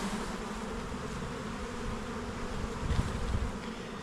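Honey bees swarming on a wax foundation frame drone in a dense, steady buzz, close and fairly quiet, swelling slightly toward the end with no voices.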